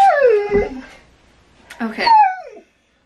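Nearby, loud and alone, a dog gives a long, falling howl, then after a short pause breaks into a second whimpering, whining cry that rises and falls before stopping.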